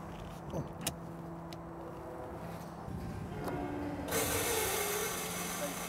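Hydrogen refuelling of a 2015 Toyota Mirai fuel cell car at a station, with clicks and mechanical clunks from the nozzle, a low hum, then a loud steady hiss of gas flow starting partway through.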